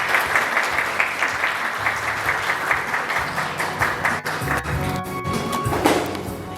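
Audience applause for the chairman of the Sejong Special Self-Governing City council at a ceremony, steady dense clapping from a crowd that carries on for the whole stretch, with a few louder thumps near the end.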